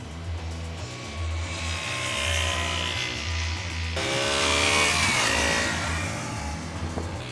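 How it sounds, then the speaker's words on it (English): A KTM 125 Duke's small 125cc motorcycle engine buzzes steadily as it rides, the revs shifting up after a gear change, close and continuous with no talk. "On the move, it's immediately apparent that this is a small engine."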